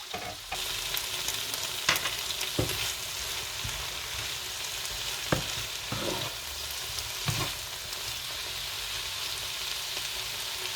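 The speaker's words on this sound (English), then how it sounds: "Let the peppers cook for 2 minutes." Peppers sizzling in a covered pan with eggplant and zucchini, a steady, faint frying hiss with occasional soft pops and crackles and no talking.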